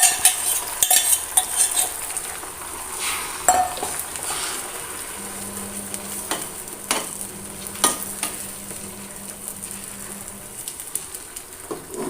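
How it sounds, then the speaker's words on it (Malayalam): Beaten egg poured into a pan greased with butter, ghee or oil, cooking as an omelette, a steady low sizzle under intermittent sharp clinks of a utensil against the pan, close and without voices. "ഇനി നമ്മളതിലേക്ക് മിക്സ് ചെയ്ത് വെച്ച മുട്ട നമ്മളിതിൽ ഒഴിച്ചു കൊടുക്കാം"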